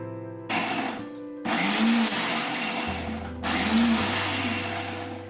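A kitchen mixer grinder whirs loudly as it grinds onions. The motor runs in several bursts with brief stops between them, and its pitch shifts as the blades chop the load.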